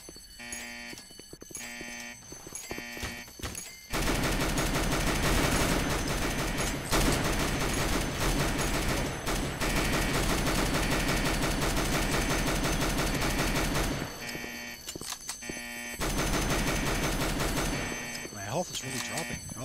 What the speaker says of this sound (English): he's shooting at us, that's why